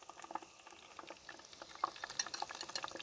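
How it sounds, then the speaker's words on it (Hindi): Potato pieces fry lightly in a pan for a mutton pulao, giving soft, scattered crackles and faint sizzling pops, quiet and close. "बस हल्का सा हमने फ्राई करना है।"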